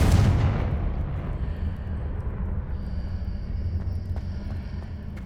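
A Confringo fire spell bursts in Hogwarts Legacy, a loud explosive blast at the start that fades into a long rumbling decay, with a faint steady tone after.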